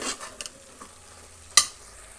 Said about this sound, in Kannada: ಅದರಿಂದ 1 ನಿಮಿಷ ಕೈ ಆಡಿಸಿದ್ರೆ ಒಳ್ಳೆ ಘಮ ಬರುತ್ತೆ.